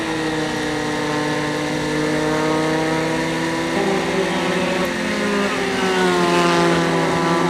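Formula Continental race car engine droning steadily on a racetrack, a sustained high whine with shifting pitch as the car gets back underway, loud and continuous with no voices.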